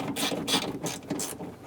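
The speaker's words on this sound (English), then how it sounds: "Once you have all 4 bolts started for the window regulator, go ahead and snug them down." Ratchet wrench snugging down window regulator bolts on a 2003-2008 Honda Pilot rear door, rapid clicking bursts in several close, loud strokes with brief pauses between.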